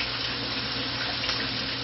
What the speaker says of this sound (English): So I'm putting my mushrooms over there. Washing the dirt off of them.